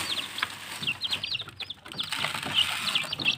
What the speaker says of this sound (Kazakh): Міне осы балапандар.